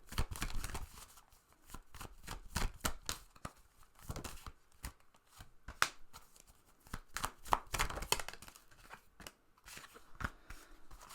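Tarot cards shuffled and drawn by hand, with a quiet, irregular series of crisp riffles, slaps and flicks close up, with no talking.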